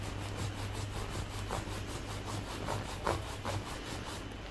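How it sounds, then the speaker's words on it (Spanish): Sandpaper rubs over a wax-coated handmade wooden flowerpot for a poinsettia in quick, regular back-and-forth strokes, a soft, close scratching with no one speaking. "luego le paso un poquito de lija por encima"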